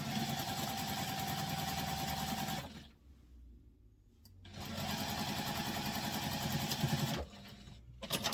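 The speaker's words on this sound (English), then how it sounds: "now I take it back to the machine and stitch down these sides" A sewing machine stitches down the sides of a fabric wristlet in two steady runs, loud and close, with a brief pause between them; no talking.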